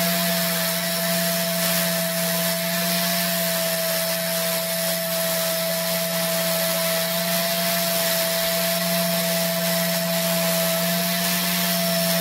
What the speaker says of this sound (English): I've got a right angle milling machine rigged up in the vise to use as a bench grinder